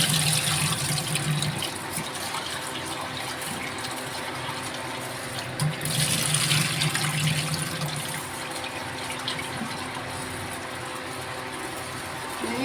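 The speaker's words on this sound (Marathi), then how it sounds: "मस्त धुवून दोन पाण्याने धुवून भिजत टाकूया." Water runs continuously from a tap while soaked rice is rinsed for chicken biryani, a steady close splashing flow with faint knocks and swirls and no talk.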